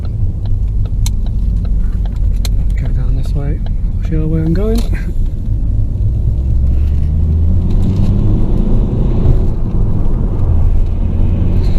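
A 2 litre petrol engine in a Ford Focus Mk3 hums and rumbles steadily as the car is driven and given some throttle, heard from inside the cabin, with someone talking over it throughout.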